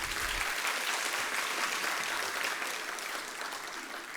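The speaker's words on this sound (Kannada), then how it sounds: "ಇದಕ್ಕೆ ಭಾರಿ ದೊಡ್ಡ ಚಪ್ಪಾಳೆ ನಿರೀಕ್ಷೆ ಇದೆ." Sustained audience applause fills a stage program hall, dense and steady clapping throughout at fairly constant loudness, easing slightly toward the end with no speech.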